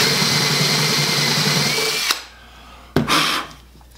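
A power drill fitted with a countersink bit cuts into wood, whirring loudly and steadily for about two seconds, then stopping. A brief second burst follows and winds down.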